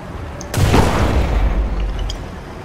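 A single loud, close boom of a Sherman tank cannon in a video game, a sharp blast followed by a rumbling decay.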